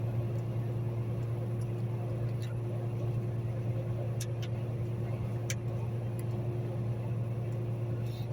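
Steady low engine and road drone fills a car cabin while driving, with a constant hum and a few faint ticks and clicks, and no talking.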